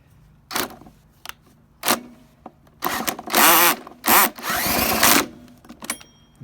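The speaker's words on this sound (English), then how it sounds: "So the way I start it now is put a drill on it like so." A power drill spinning a small engine's pull-start bolt after the broken pull-start was stripped down, heard in several bursts of whirring that grow longer toward the end, with short pauses and handling noise between them.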